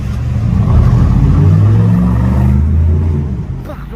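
An Aston Martin One-77 supercar rumbles past close by in Monaco, its deep engine note swelling loudly with revving before fading out, and a voice speaks excitedly over it.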